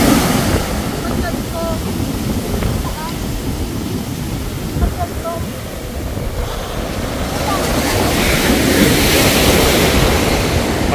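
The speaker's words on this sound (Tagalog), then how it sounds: "laki ng alon" Ocean surf rumbles and washes steadily with wind buffeting the microphone, swelling louder toward the end; faint voices are heard briefly under the noise.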